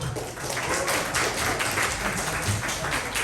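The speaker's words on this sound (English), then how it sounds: "That deserves a big round of applause as well." An audience at a public event applauds a building project announcement, a loud, dense round of clapping that holds steady throughout the short stretch, with some murmuring underneath.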